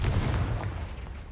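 The Confringo fire spell going off in the Hogwarts Legacy video game: a short, loud, deep explosive boom that rumbles and fades within about a second.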